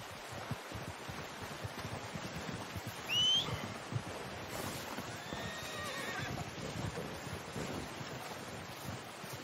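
A horse in a video game whinnies once, fairly close, over a steady bed of hoofbeats and wind-like rushing, with a softer neigh following later.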